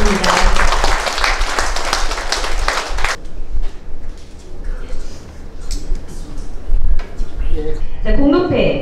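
Audience at an art award ceremony in Korea applauding a prize winner: a dense, loud burst of clapping for about three seconds, then fading into room noise with scattered voices and rustling near the end.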